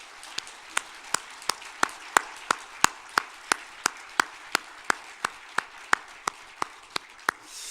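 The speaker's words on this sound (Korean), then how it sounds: "우리 하나님께 영광의 박수를 올려드리겠습니다." A church congregation claps in slow, even unison during a worship service, about twenty sharp beats about a third of a second apart, with faint room murmur behind them.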